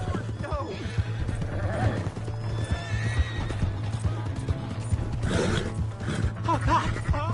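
A horse in Red Dead Redemption 2 whinnies and neighs repeatedly while hooves clip-clop steadily throughout, all under a low constant hum and intermittent shouting voices.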